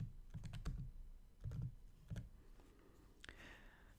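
Several short bursts of keystrokes as a name is typed on a computer keyboard, quick clustered taps separated by brief pauses, close and fairly quiet.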